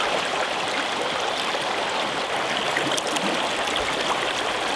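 A river runs with a steady, close rushing and hissing flow, unbroken and even throughout, with no voices.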